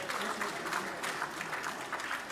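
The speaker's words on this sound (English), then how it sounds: "Please, a round of applause once again for the Honourable Minister of Environment." An audience applauds the Minister of Environment at a formal event, a steady, dense patter of many hands clapping, moderately distant and even in level with no speech over it.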